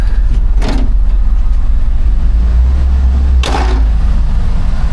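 A 1982 Ford F-150 engine with a newly built exhaust idles with a deep, steady rumble, broken by two sharp revs, one early and one near the end, recorded close with no talk.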